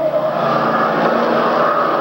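Race cars speeding down the front stretch of an oval track, a steady, loud engine roar blending into a continuous wash of noise with no break.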